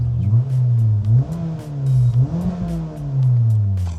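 A Honda Civic Type R engine revs up and down repeatedly, rising and falling through quick downshift blips, close and loud with no talking.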